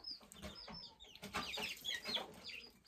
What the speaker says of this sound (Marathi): कोंबड्यांना टाकतो आता बघा,